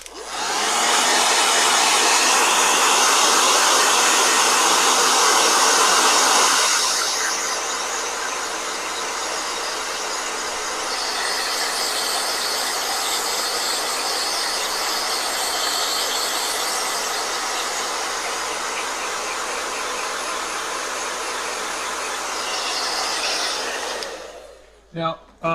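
A blow dryer runs loud and close for over twenty seconds, its roar easing to a slightly softer pitch partway through before switching off.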